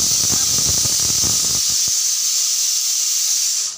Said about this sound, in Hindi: तो अभी ये आलू उबल रहा है